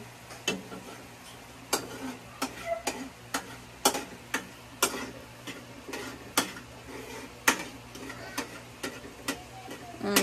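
A utensil stirs food in a pot, making a string of sharp clinks and scrapes against the pot about every second. The sounds are fairly faint, with a soft sizzling background and a little talk.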